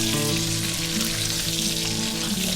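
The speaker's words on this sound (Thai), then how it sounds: "นี่นะคะเราก็ทอดจนเป็นสีเหลืองทองแบบนี้เลยนะคะ" Pork pieces deep-frying in hot oil until golden, a loud, steady, dense bubbling sizzle that holds unbroken from start to finish.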